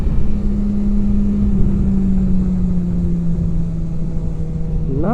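A BMW S1000XR motorcycle engine hums at a steady mid pitch while riding, under heavy wind rush, easing slightly and then revving upward at the end.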